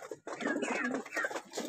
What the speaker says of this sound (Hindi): ये रहा टेडी, हमारा टेडी कबूतर